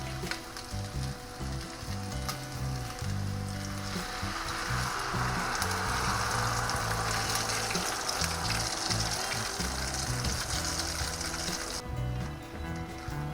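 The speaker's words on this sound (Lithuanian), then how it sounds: "dabar galim pilti mūsų kiaušinius su daržovėm" Loud, continuous sizzling and crackling of eggs and vegetables frying in a hot pan, swelling after the mixture is poured in, with faint scraping stirs.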